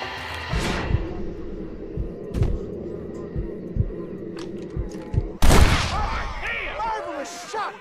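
Gunfight in the Western video game Red Dead Redemption: several sharp gunshots crack over a low throbbing game score, followed by a louder burst of impact noise near the end.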